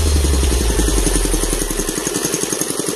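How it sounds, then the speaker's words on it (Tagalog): A large engine runs steadily while pumping water from a stream, a loud, close, rumbling idle with a fast, even pulsing throb throughout and no talking over it. "malaki po yung makina na gamit natin. Kaya napakalakas po ng tubig natin ngayon."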